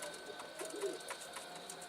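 Soft cooing of a pigeon or dove, a few faint low calls over quiet background hiss.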